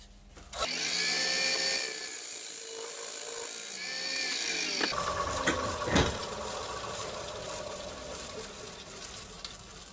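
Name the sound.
pointed carbide cutter cutting groove in walnut bowl on lathe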